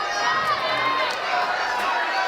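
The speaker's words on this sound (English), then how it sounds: "You can hear the crowd going wild." A hometown crowd cheers and screams at a climbing World Cup bouldering final in Salt Lake City, a loud sustained roar of many voices with higher shrieks rising and falling.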